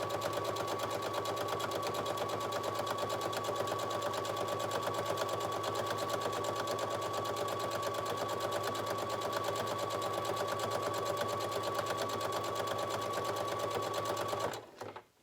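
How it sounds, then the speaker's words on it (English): A sewing machine stitches down the length of a ribbon for a surgical mask, a fast, even, close mechanical whirr running steadily for about fifteen seconds before stopping abruptly. "I'm gonna sew all the way down the length of this ribbon"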